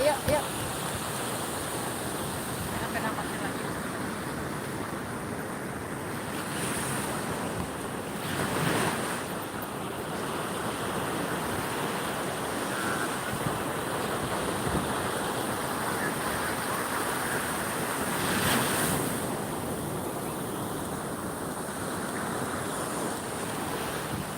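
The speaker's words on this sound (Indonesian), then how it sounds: "Ya masuk dong ombak." Steady wash of ocean surf on a beach at Pantai Katapian, broad and continuous, with gusts of wind noise buffeting the microphone and occasional louder wave surges.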